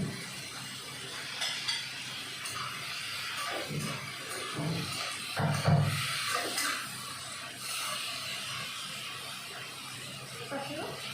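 Eggplant and long beans stir-fried in a pan for a Chinese-style lunch, giving a steady sizzle with scraping stirs and a few louder clatters, while a voice speaks over it.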